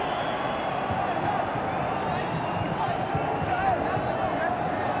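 A rugby league crowd at a 1995 New Zealand versus France test match reacts to a referee's call with a steady, distant wash of murmuring and booing, with no clear peaks.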